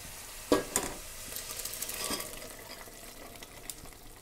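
Cauliflower hits hot oil in a pan while cooking a kidney bean curry, sizzling steadily as a spoon stirs, with a few sharp clacks of utensil against the pan near the start, no talking.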